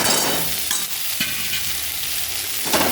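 Potatoes drop into hot oil on a high gas flame and fry with a loud, continuous close sizzle, a few stirring scrapes breaking through.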